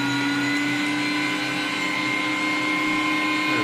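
A Bosch electric meat grinder runs at speed, a steady loud motor whine with a strong humming tone and a constant mechanical drone throughout.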